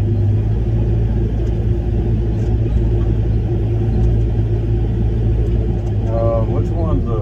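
A Kubota skid steer engine runs steadily at a loud, even rumble throughout, and a voice briefly breaks in near the end.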